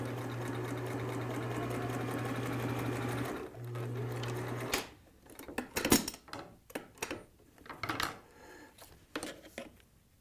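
A sewing machine runs a straight stitch along the double-folded, ironed bottom hem of a fabric chemo cap, humming steadily up close for about four seconds with a brief pause, then stopping as clicks and handling noises of fabric and parts follow.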